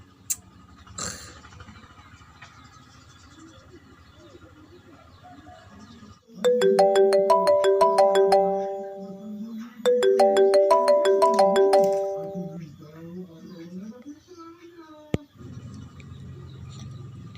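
A telephone ringtone plays a bright repeating melody in two loud bursts with a brief gap between them, set against a quiet room.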